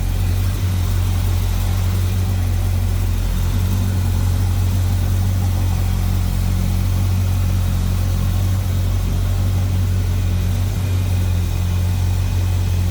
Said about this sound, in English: Smooth running power plant. 1969 Chevrolet El Camino.